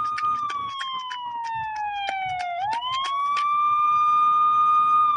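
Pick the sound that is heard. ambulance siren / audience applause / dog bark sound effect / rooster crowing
ambulance siren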